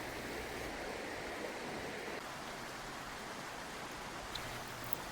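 A mountain river rushes in a wild highland spot as a steady, soft, even wash of flowing water, with no one talking.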